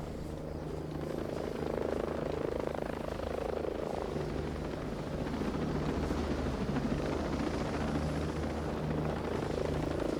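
A helicopter in a video game drones steadily throughout, its rotor thrumming loud and continuous as if hovering nearby, with no clear speech.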